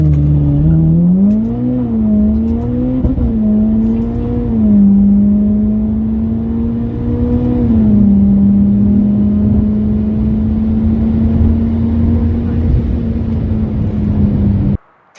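A Mitsubishi Evo X with 430whp on a quarter-mile launch-control run, its engine droning loud and steady with rising harmonics as it pulls hard through the gears, continuous and close, with no talk over it.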